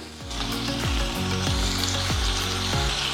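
Onions and tomatoes sizzle steadily in a hot pan, a continuous close frying crackle with regular soft knocks of a spoon stirring, and no voices.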